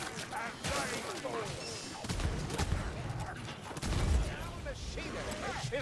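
Gunfire in the fantasy co-op game Vermintide 2, a Witch Hunter Captain's shots cracking through a busy battle mix of clashing hits and crowd noise, with a player talking over the action.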